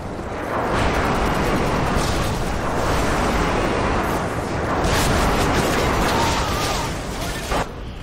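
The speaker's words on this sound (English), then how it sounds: "Friendly airstrike inbound." Airstrike explosions rumble in a Call of Duty: Modern Warfare 2 team deathmatch on the Highrise map, a dense, continuous roar of blasts and booms with a few sharper cracks, loud and sustained throughout.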